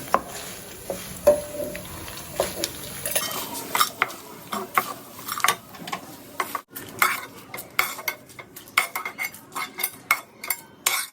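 Ingredients for gongura pickle frying in hot oil in a pan, with a soft sizzle beneath repeated close scraping and clinking of a metal spoon stirring against the pan.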